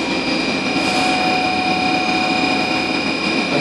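A Mori Seiki NL1500SY turning center with its spindle running at speed, giving a loud, steady mechanical whine and hum with constant tone throughout, no talking heard.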